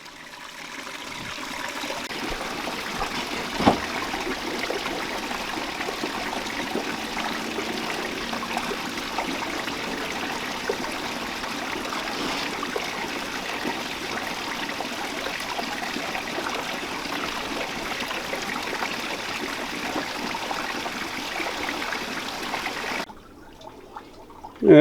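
Water runs steadily over a gold prospecting pan, a continuous trickling stream that washes gravel along the pan for about twenty seconds, near and even, before cutting off abruptly at the end.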